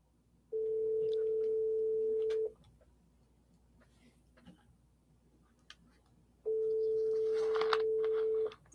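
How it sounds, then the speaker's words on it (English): A mobile phone call on T-Mobile rings back with a single steady tone lasting about two seconds, then a gap of silence and faint rustling, then another identical long tone. "Okay, I'm going to try another call."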